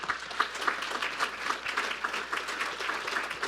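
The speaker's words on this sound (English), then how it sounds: "How about a round of applause for our panelists?" An audience at a diversity and inclusion summit applauds its panelists, a steady dense wash of clapping that stays even and sustained throughout with no voices on top.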